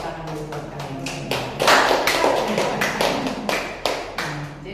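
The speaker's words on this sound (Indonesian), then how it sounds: "jadi tepuk tangan dulu buat kalian." A group claps loudly and steadily in a room, with uneven overlapping hand strikes and a few louder bursts, and no voices over the clapping.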